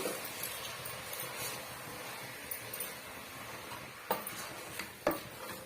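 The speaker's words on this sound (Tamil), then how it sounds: "இதையுமே வந்து ஒரு டூ மினிட்ஸ்க்கு நல்லா வந்து கிண்டி விட்டுக்குங்க" Masala is stirred with snake gourd in a pan, giving soft, faint scraping and a few sharp clinks of a spoon against metal, sparse and irregular with no talking.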